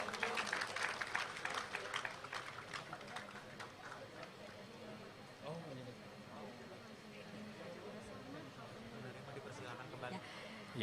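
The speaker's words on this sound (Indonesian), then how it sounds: "Boleh tepuk tangan sekali lagi, hadirin sekalian." Faint, distant applause from attendees at an Indonesian Independence Day flag-raising ceremony honoring winners; clapping is strongest at first, then thins out beneath murmuring voices and low background noise.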